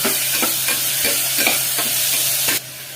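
Tomatoes and curry leaves sauté in a pan for a drumstick gravy, a loud close sizzle with a spatula scraping in a regular rhythm about every half second, cutting off abruptly near the end.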